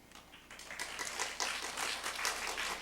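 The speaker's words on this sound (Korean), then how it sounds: "장로님 나오실 때 큰 박수로 맞이해 주시기 바랍니다." A church congregation at a mothers' prayer meeting claps to welcome an elder to the front, a short burst of applause that swells from quiet to a full, steady round.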